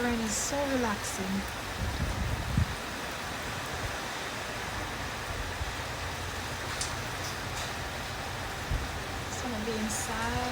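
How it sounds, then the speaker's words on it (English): Steady rain pours in bad weather in Japan, a dense continuous hiss that fills the whole stretch, with faint voices and a couple of brief knocks underneath. "Sound of the rain is so relaxing."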